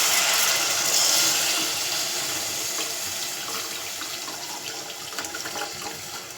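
Dissolved tamarind water is poured into a pan as a continuous close liquid rush that fades slowly over several seconds, with no talking.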